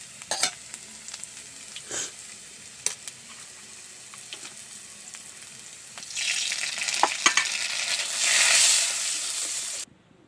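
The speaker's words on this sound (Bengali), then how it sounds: "আলুটা আমি এবারে লাল লাল করে অল্প লবণ হলুদ দিয়ে ভেজে নেব" Cut potatoes frying in mustard oil with salt and turmeric in a wok, a steady crackling sizzle dotted with spatula clicks, swelling to a louder hissing burst near the end before cutting off abruptly.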